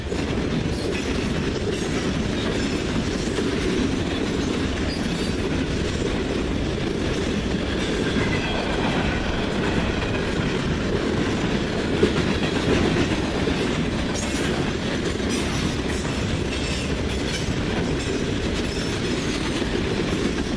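A BNSF ES44C4 locomotive hauls a manifest freight train past at close range, a steady loud rumble with rail clatter and wheel noise running throughout, no talk.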